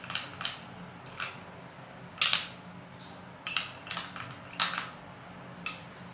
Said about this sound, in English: Okay, so what I'm going to do is I'm going to stir it.